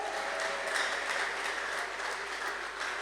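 Steady applause from a church congregation during an Ethiopian pastor's sermon, a dense continuous wash of clapping held at an even level throughout.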